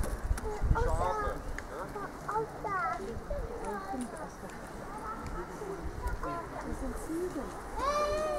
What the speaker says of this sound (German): Die Schafe.